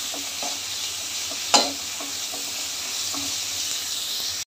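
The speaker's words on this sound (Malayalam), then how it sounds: "ഇച്ചിരി വെളിച്ചെണ്ണ ഒഴിച്ചിട്ട് അതിലേക്ക് ഒരു 4 സവാള ചേർത്തിട്ടുണ്ട്, ചെറുതായിട്ട് അരിഞ്ഞ്" Chopped onions, ginger and garlic sauté in coconut oil with a steady close sizzle, broken by soft stirring scrapes and one sharp knock, before the sound cuts off abruptly near the end.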